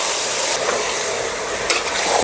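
Marinated chicken is stirred into golden fried onions for a chicken gravy curry, with a close, continuous sizzle and scraping stir strokes that rise briefly near the end, and no voices.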